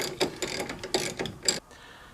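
A ratchet tightens a strut bolt on a Jeep Liberty during a front strut and lift install, giving three or four separate close clicking strokes before falling quiet.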